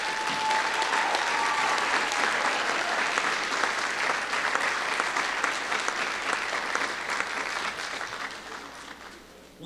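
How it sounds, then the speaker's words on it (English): A crowd at a National Honor Society induction ceremony gives a round of applause for new members. Dense clapping from many hands fills the room, steady and loud, then fades slightly near the end. "please join me in another round of applause for all their achievements"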